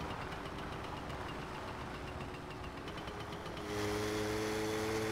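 A motorcycle engine in the driving game My Summer Car runs at a steady, rough idle. Partway through, its pitch and loudness step up as it revs higher and holds there. No one speaks.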